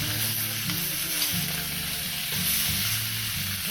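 Picanha and steak tips sear on a Blackstone griddle, a loud, constant close sizzle with a low background hum and no talking.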